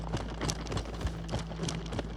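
Running soldiers' footsteps as a sound effect pitched down to feel heavier, a brisk, dense patter of thudding footfalls, close and quiet, alone without speech.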